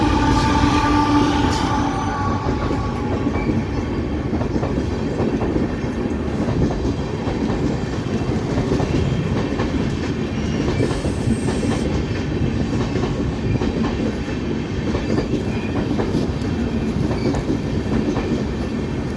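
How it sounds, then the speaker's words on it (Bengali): The Tripura Sundari Express rolls past a level crossing, a loud, continuous rumble with rhythmic clickety-clack of wheels on rail joints and faint squeals, sustained throughout with no talk. "ফাইনালি ট্রেন চলে আসছে। এটা বোধহয় ত্রিপুরা সুন্দরী এক্সপ্রেস"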